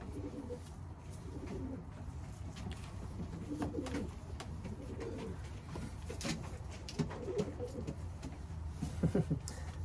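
Soft cooing from racing pigeons in low repeated phrases over a steady background hum, with faint chirps and a few brief clicks.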